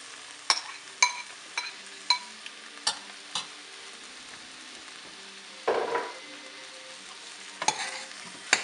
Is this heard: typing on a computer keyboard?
no